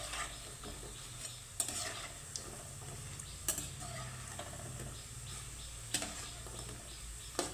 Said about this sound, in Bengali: পুরোপুরি ভেজে নিতে হবে, সুন্দর একটা কালার চলে আসবে।